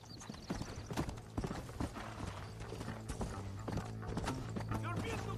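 Horse hooves clip-clopping at a fast gallop in the Red Dead Redemption video game, a steady rhythmic drumming of close hoofbeats over a low rumble, with game dialogue heard alongside.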